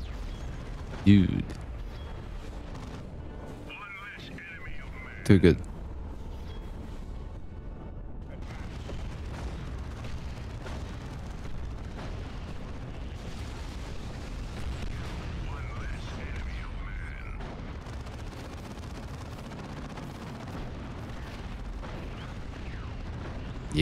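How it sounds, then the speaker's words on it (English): Plasma cannon fire and explosions in the Warhammer 40,000 strategy game Dawn of War 2, Wrath of the Blood Ravens mod: two sharp heavy blasts early on, then a steady rumble of battle under ongoing voice chatter. "Plasma cannons"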